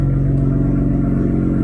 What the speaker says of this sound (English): Why is it not revving past 3K?